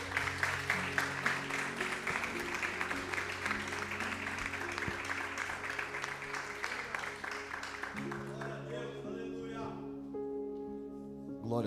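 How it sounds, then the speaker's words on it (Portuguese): A church congregation claps steadily together for several seconds over organ-like music, the applause fading out near the end as the tones continue. "Louva a Deus com as palmas."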